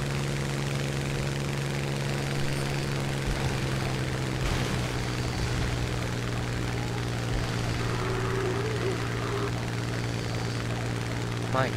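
Aircraft engines drone steadily throughout a video game air battle, a constant loud propeller hum with faint passing whooshes and occasional impacts underneath.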